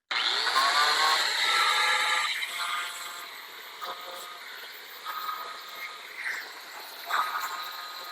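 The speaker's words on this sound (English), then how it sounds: "so I'm just going to take my angle grinder." An angle grinder whines loudly at first against the sharp drilled edges of a metal pool skimmer part, then settles into a softer grinding with uneven surges as it smooths the burrs.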